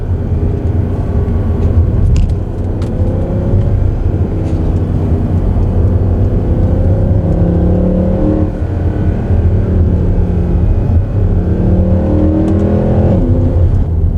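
A Mercedes C63 AMG 507 Edition taken through corners at speed, heard from inside: a loud, continuous engine drone with rising and falling revs as it shifts and pulls through the bends, under heavy road rumble.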